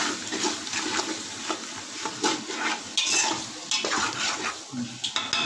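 Ginger garlic paste being stirred into biryani masala in a pot, a steady scraping and sizzling mix with irregular spoon strokes, close and fairly loud throughout, no talking.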